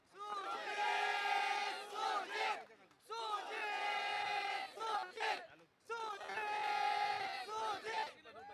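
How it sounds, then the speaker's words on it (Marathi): Spectators at a local cricket semi-final in Karad roar for batsman Sujit in three long, loud surging waves of shouting and cheering, with short dips in between. "परंतु सुजितसाठी जल्लोष होतोय."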